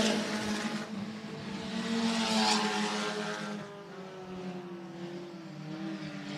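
Hobby stock race cars roar around Hancock County Speedway, engines swelling loudly as they pass close by and then fading into a sustained drone as the pack moves away.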